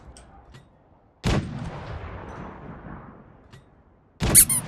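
Two heavy gunshot blasts, one early and one near the end, each with a booming echo that trails off, in a video game.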